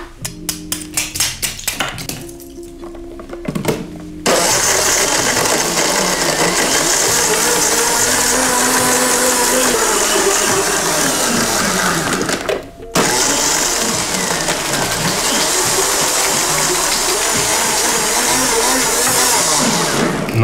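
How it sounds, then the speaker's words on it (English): Blender crushing extra ice into a thick frozen passionfruit cocktail, loud and close, starting with a few rattling pulses before settling into a long continuous grinding roar that dips briefly midway. "I'm actually gonna add some extra ice and blend a little bit more because I want a thicker consistency to this frozen cocktail."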